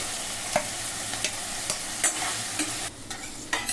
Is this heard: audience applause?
no